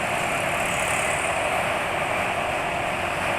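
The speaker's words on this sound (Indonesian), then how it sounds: "Cuma ini suara mesin sudah kasar." A car engine with worn engine oil idles roughly, droning steadily and continuously at close range, with a coarse, uneven rumble and no talking.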